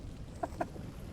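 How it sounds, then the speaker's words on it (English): A rooster in a post-apocalyptic survival video game fights back, giving two quick, close clucks about a beat apart over a low ambient bed. "I killed a chicken, and the rooster's fighting me back."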